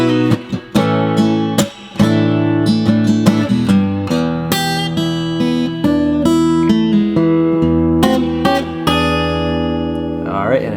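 Guitar in open E tuning plays a 12-bar blues ending, moving from the five chord down to the four and resolving on the one, closing on an E dominant seventh; close, strummed and picked chords with a few brief pauses, ending on a ringing chord.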